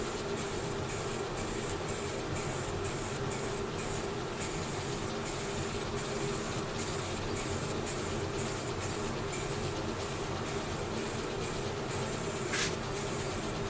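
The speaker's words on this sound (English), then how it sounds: "Now I'm just going to give it a light coat of sanding sealer." Chestnut aerosol can of acrylic sanding sealer sprayed onto turned wood, a continuous close hiss broken into short rhythmic pulses, no talking.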